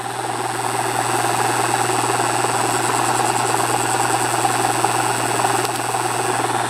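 An open source AC magnet motor with an ultralight rotor spins at fairly high speed, giving a steady, loud mechanical hum with a constant whine and no change in pitch.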